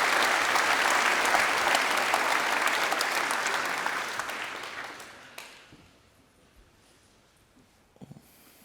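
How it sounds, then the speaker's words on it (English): Warm applause from a keynote audience at a SuiteConnect business conference in Sydney, loud and dense at first, then tapering off over several seconds into near quiet with a few stray sounds. "Will everyone please give Danielle a warm round of applause?"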